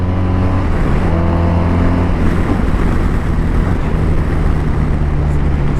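A BMW R1250RT police motorcycle engine running smoothly, with quick-shifter gear changes and fly-by-wire throttle; a loud, steady drone with a pitch shift near a gear change, heard close up under heavy wind rush.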